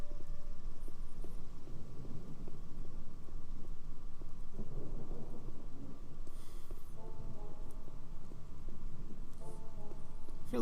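Steady rain pours through a nighttime scene in the video game Gothic, with low rumbling thunder rolling underneath and occasional brief tonal game chimes cutting in, all continuous and fairly loud throughout.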